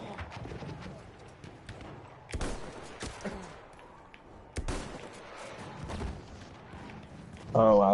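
Battlefield 1 gunfire in a busy multiplayer fight, several sharp shots and bursts at irregular intervals under a player's steady commentary, with distant battlefield rumble throughout.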